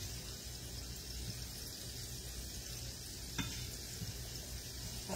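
Small potatoes sizzling steadily in a hot frying pan, a constant close hiss and crackle with a faint occasional scrape, no voices.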